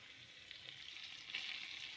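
Fried vegetables, potato, bitter gourd and eggplant, sizzle gently in oil and spice paste for shukto, a faint, steady crackling hiss with slight swells as they are stirred, heard alone.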